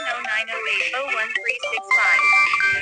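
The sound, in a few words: mobile phone ringtone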